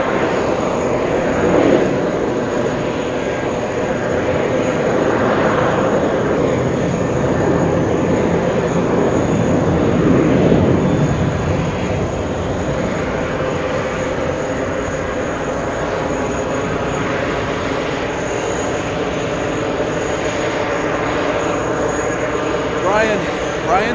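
A Boeing 767-300 airliner rumbles steadily at JFK, a broad, sustained engine roar that swells around the middle and eases off, with a voice talking over it.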